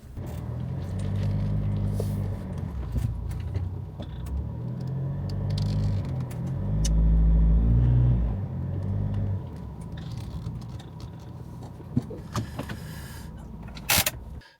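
A campervan reversing slowly into a parking spot near Malham Cove in Yorkshire, with a steady low engine hum that swells midway and crunchy tyre noise on a rough surface, ending with a couple of sharp knocks.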